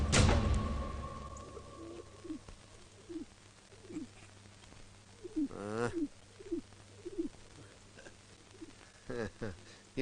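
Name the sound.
bird cooing, pigeon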